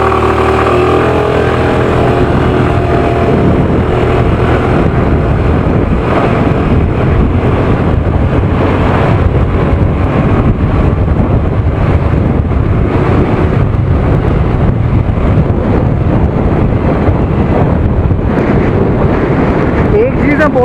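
A Suzuki Access 125cc scooter accelerates under heavy, steady wind buffeting on the microphone, with the small single-cylinder engine drone largely buried in the roar.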